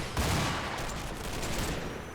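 Gunfire and explosions from PIAT anti-tank teams engaging a German Panzer in the WWII video game Combat Mission, a dense, loud burst of overlapping shots and blasts that fills the whole stretch without a break.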